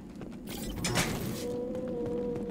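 A door opens in the Mass Effect 2 video game, a creaking mechanical slide with a rising sustained whir that settles into a steady hum, heard alone.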